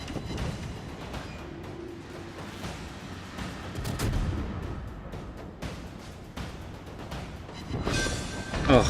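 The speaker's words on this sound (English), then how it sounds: "Oh, it's obligatory exploding Nurnberg." Warship guns firing and the cruiser Nurnberg blowing up in World of Warships, a rumbling stretch of distant booms and artillery thuds with a louder burst near the end, a voice talking faintly underneath.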